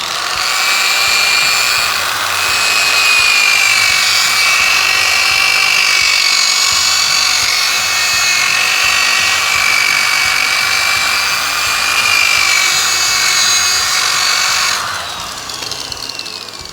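Power sander working a wooden top at the final grit, a steady loud whine running continuously for about fifteen seconds before cutting off abruptly, leaving quieter background noise.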